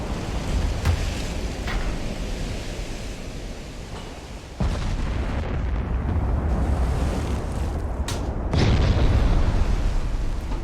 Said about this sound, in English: Get a nice view of these guns firing this thing